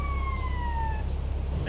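A police car siren wails in the video game GTA Liberty City Stories, a short rising and falling electronic tone over a low engine hum that cuts off partway through.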